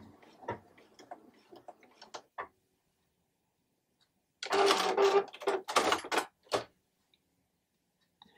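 A sewing machine stitches a men's shirt being refashioned into a wrap blouse. A few soft clicks come first, then after a pause a loud, dense run of stitching bursts stops and starts for about two seconds.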